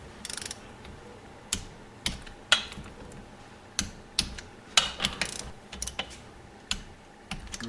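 Torque wrench tightening cylinder nuts on a 1973 Honda CB750 during piston and cylinder installation, giving sharp metallic clicks and ratcheting ticks at irregular intervals, close and moderately loud over quiet workshop room tone.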